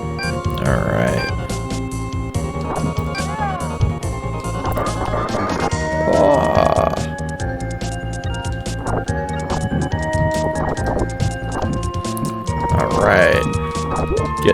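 A horse in a retro Nintendo video game makes rhythmic chiptune-style clip-clop hoofbeats with occasional neighs, steady and prominent across the clip, while someone talks over the game sounds.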